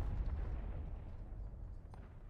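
Cannon artillery fire in the Civil War game War of Rights, a low, rumbling boom with a distant roll that fills the clip, followed by a faint sharper crack near the end.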